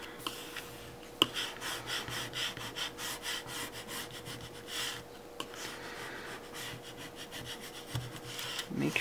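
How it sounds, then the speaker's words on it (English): A small scraper rubs down vinyl on a sheet with a quiet, continuous scratchy scraping and faint rasping strokes at close range, with no voices. "Take my little scraper and go right on up."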